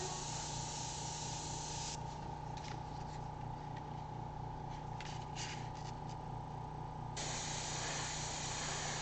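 A Thornton airbrush sprays as a steady, close hiss with a constant pump hum underneath, the hiss easing for a few seconds in the middle and then coming back at full strength.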